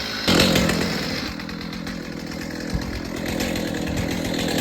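A Stihl MS290 chainsaw runs steadily and loud through wood, a continuous close-up engine roar with a sharp onset and slight swells in pitch as it bites.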